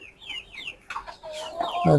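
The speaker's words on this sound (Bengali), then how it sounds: "এই পাহাড়ি পাহাড়ি মুরগির যে প্যারেন্ট" Parent-stock hill chickens on a poultry farm cluck in quick, close calls, one bird after another, over faint background noise.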